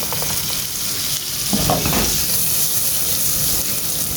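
Butter sizzles steadily in a frying pan at the start of cooking ginisang upo, a continuous close crackle with some stirring and faint clatter partway through, and no voices.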